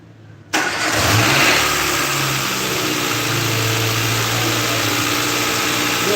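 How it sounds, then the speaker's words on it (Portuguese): A car engine cranks and catches on a direct start, then settles into a steady, loud idle close by with no talking. "Primeiro eu vou fazer a partida direto, normal do carro."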